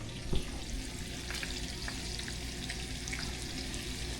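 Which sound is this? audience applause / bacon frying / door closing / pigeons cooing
bacon frying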